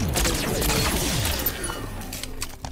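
Rapid bursts of beam rifle fire in Halo 5, loud and dense, crackling continuously with mechanical clatter and a few sharper cracks near the end.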